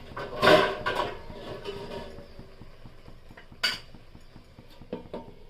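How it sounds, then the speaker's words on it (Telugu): Lid set onto a pot of finished vegetable curry: a loud metallic clatter up front, then fainter clinks and a second sharp knock of metal on metal a few seconds later, close by. "కొంచెం మూత పెడతాను."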